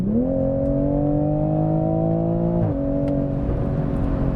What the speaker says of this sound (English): Let's give it a quick little exhaust clip here.